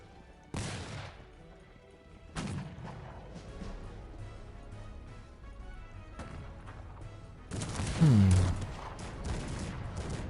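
Several booming cannon blasts in the strategy game Cossacks 3, at irregular intervals, the last a heavier volley from about 25 cannons, with quieter game rumbling between them.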